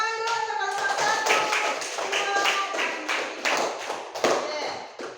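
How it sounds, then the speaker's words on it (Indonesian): Students in a classroom lesson clap for the first group, a dense, close patter of hand claps running steadily throughout with a voice briefly audible at the start. "Tepuk tangan dulu untuk kelompok 1."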